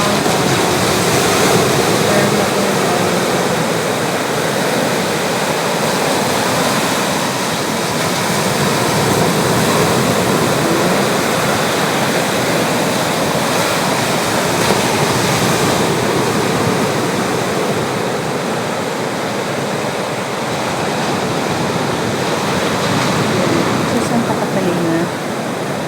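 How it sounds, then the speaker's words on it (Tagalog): Big ocean waves roll in at high tide along the shore, a loud, constant roar of surf with no breaks, with voices talking faintly underneath. "malalaki yung alon na yun"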